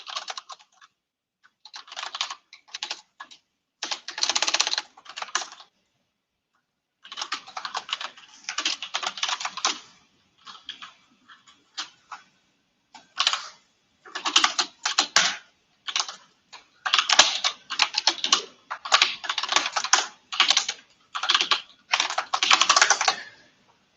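Code typed on a computer keyboard in close, clattering bursts of rapid key taps separated by short silent pauses, with no voice over the typing.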